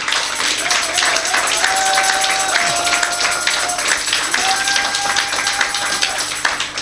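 A church congregation claps and cheers to acclaim the Lord, a dense steady wash of applause with rising voices and whoops throughout, loud and close, continuing without a break.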